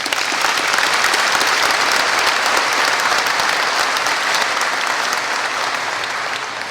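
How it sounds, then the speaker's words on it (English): Loud, dense applause from the audience at a school's 100th anniversary celebration, many hands clapping continuously at an even level for several seconds before tapering slightly at the close. "let's give them another round of applause"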